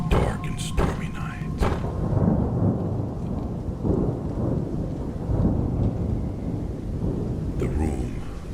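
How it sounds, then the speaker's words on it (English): A thunderstorm rolls through at night, with deep rumbling thunder and steady rain throughout and a few sharp cracks near the start, while a person talks over it. "It was a dark and stormy night."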